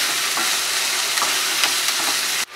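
Finely chopped onions, two medium ones, fry in a pan with a continuous loud sizzle and light stirring, until the sound cuts off abruptly near the end.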